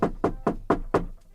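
Five firm knocks on wood in an even rhythm, close and dry, each with a short hollow resonance, heard alone without talk.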